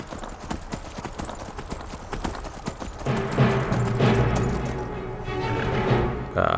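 Horse hooves clip-clop in a quick regular rhythm while riding in Skyrim, close and clear at first, then partly buried under a louder wash of ambient sound and music in the second half.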